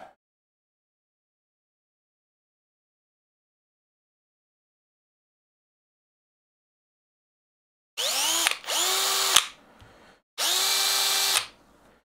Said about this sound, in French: On se met sur perceuse.